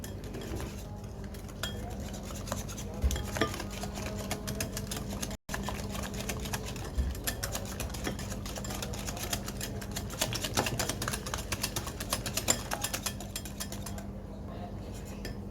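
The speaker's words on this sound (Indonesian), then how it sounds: "Masukkan sedikit gula pasir, kaldu bubuk. Kita akan kocok." Sugar and powdered broth being whisked in a bowl produce a fast, steady clinking and scraping of a whisk against the bowl, continuous and fairly close, with no talk.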